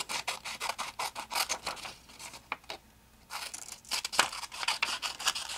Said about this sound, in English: And then I will quickly cut it.